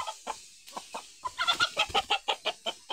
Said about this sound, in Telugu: ఇక్కడైతే కోళ్ళు పెంచేటివి చూడండి ఎంత చక్కగా ఉన్నాయో